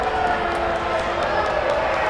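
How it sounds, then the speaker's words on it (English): A crowd at a women's basketball game boos in a steady, dense wash of voices filling a gym, constant and fairly loud throughout. "The crowd's booing."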